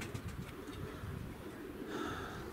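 Pigeons in an aviary cooing softly, a low murmuring coo repeating through steady background noise without any talk.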